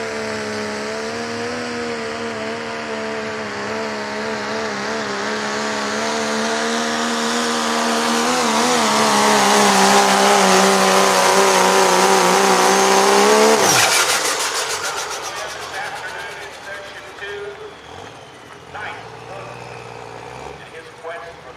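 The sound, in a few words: Megatron limited pro diesel pickup racing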